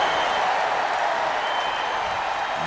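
A wrestling crowd at an SCW Showdown event cheers and applauds in a dense, steady roar, with a commentator's voice faint beneath it.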